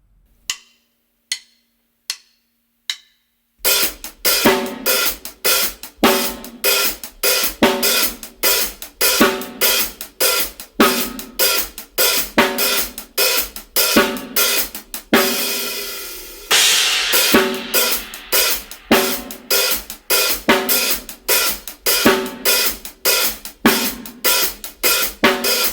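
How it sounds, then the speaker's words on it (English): A drum groove with the kick drum removed, leaving a snare backbeat over steady hi-hat. A few sparse count-in clicks come first, then a loud, driving pattern of close, crisp hits that keeps going to the end. "we're going to remove the kick drum, and instead we're going to do the backbeat on the snare"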